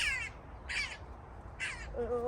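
Harsh crow caws in three short bursts, fairly close to a potted cherry tree, with a brief lower call at the end over faint background noise.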